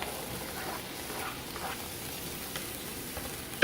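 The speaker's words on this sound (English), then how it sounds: "we're going to start our pan with some butter, and we're going to fry up some onions first" Onions fry in melted butter in a pan, a steady close sizzle and crackle that continues evenly throughout, with a sharp knock right at the end.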